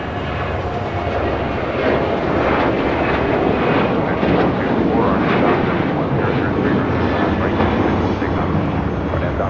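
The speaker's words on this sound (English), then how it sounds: "This is American Airlines 2674 taking off to Indianapolis on a 737-800." An American Airlines Boeing 737-800 departing LAX for Indianapolis, powerful jet engine thunder swelling after the first couple of seconds and staying loud and dense throughout.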